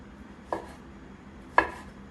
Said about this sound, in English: first I'm gonna cut the beef in squares of 3 to 4 centimeters